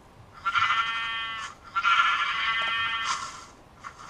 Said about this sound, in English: I got a sheep!